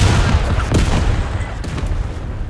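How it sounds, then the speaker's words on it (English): Gunfire in the VR shooter Zero Caliber, a dense, continuous rumble of booming shots with scattered sharper cracks, loud and close throughout. "Who's shooting me again?"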